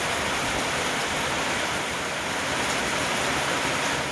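Steady rain pours down outdoors in an even, close, full-bodied hiss that holds without a break, with no voices.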